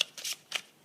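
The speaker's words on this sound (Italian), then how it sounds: "Mettiamo 3 carte di tarocchi e un oracolo." Tarot and oracle cards being laid out on a table, two quick, soft papery slides and flicks close by in a quiet setting.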